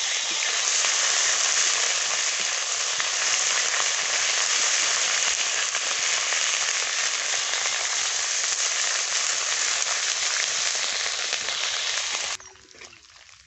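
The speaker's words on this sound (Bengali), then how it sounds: "আদা 2 মিনিট মতো ভেজে নিয়েছি।" Ginger paste with a little turmeric frying in a pan while cooking a Bengali potato curry, a bright, even sizzle held close and loud for several seconds before it suddenly cuts away to quiet.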